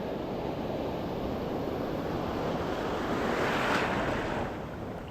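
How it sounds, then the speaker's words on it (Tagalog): Strong ocean waves roar and crash continuously during a fishing trip, with a broad rushing swell building toward the end amid gusty wind noise. "Grabe lakas ng alon mga chong."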